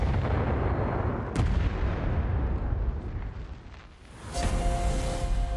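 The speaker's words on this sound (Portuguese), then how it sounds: "Ele vai na direção do canhão e está pronto para o disparo." An artillery cannon at a Nazi-era island fort firing: a sudden loud blast with a sharp crack, then a rolling rumble that trails off over several seconds, with no talk.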